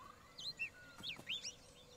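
Alien creatures in the Spore video game give short high chirps and whistly tweets, a few scattered calls spread over a quiet, faint background.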